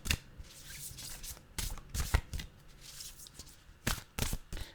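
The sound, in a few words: shuffling tarot cards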